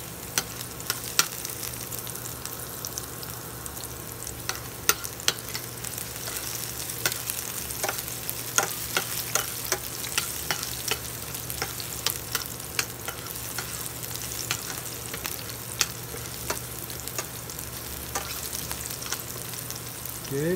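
Onion fries in a pan with a steady crackling sizzle, dotted with sharp pops and spits throughout, close and continuous.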